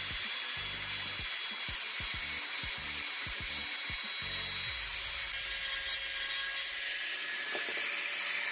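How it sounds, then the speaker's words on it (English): A Dremel rotary tool carves a wooden crankbait fishing lure. A steady, high-pitched motor whine runs throughout with a grinding edge, and a low pulsing chatter fades out about halfway through, with no talking. "We're getting the Dremel out."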